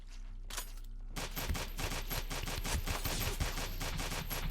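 Rapid automatic gunfire rattles in a dense, sustained burst in the video game Space Station 14, following a couple of brief shots, at moderate level with no talk over it.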